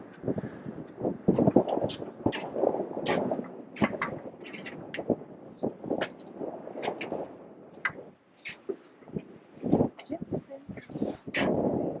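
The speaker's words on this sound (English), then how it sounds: "the wind is kicking really bad" Strong gusts buffet the microphone on the White Sands National Park boardwalk, a rough, uneven roar of wind noise that swells and drops throughout, with a person talking over it.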